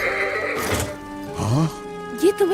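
A cartoon horse neighs and whinnies loudly in several rising, wavering calls, with a dull thunk and a voice speaking around it.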